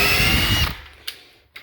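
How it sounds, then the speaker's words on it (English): A power drill drives a lag screw with a washer into a hidden floating-shelf bracket, a loud close whir that stops abruptly, followed by two short clicks. "So now I've got my drill."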